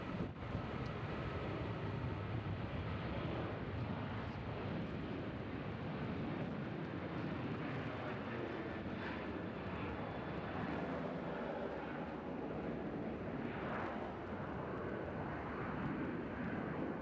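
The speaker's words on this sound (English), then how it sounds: "So we'll film this WestJet taking off" A WestJet airliner takes off at Nashville International Airport, its engines a steady, broad roar heard from a distance, with wind buffeting the microphone throughout.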